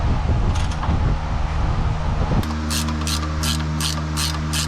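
A ratchet wrench clicks during the reassembly of a GMC Sonoma: rapid, evenly spaced metallic clicks in several quick bursts, close and clear, after a stretch of rough mechanical handling noise.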